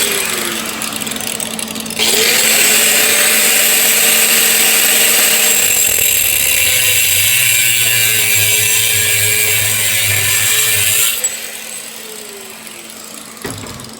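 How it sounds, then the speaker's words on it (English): A power tool, apparently an angle grinder, cuts custom metal tabs for headlight mounting on a Honda Civic build. It whines loudly and steadily for about nine seconds, then spins down, with a low hum running underneath. "So there I was just cutting some custom tabs for the headlight placement"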